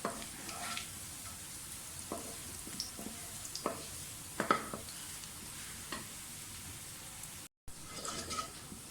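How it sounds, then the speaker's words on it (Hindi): Curry leaves and onions fry in a pot with a steady crackling sizzle, broken by scraping stir strokes and small pops. The sound drops out briefly near the end, then the sizzle resumes. "अब इसमें कड़ी पत्ते डाल दें, ये भी साथ थोड़े से फ्राई हो जाएंगे"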